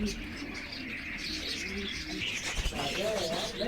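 Pigeons coo and chirp among caged pairs at a Sunday bird market on Kasi Road in Quetta, soft warbling calls mixed with busy market background noise and voices.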